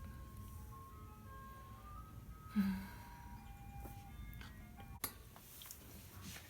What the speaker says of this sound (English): Sorry about the ice cream truck.